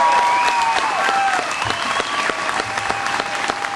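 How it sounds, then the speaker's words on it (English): Steady crowd applause at an outdoor Fourth of July Tea Party political rally, dense clapping filling the whole stretch at a strong, even level without a break. "I want a round of applause for Ken Cuccinelli."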